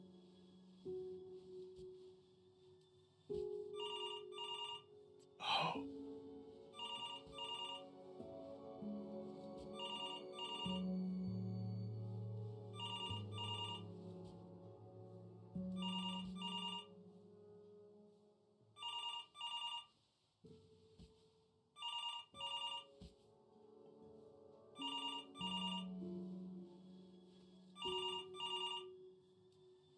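A telephone rings in the video game Before Your Eyes: repeated double-trill ring bursts at a steady rhythm over quiet ambient music, with one brief spoken exclamation.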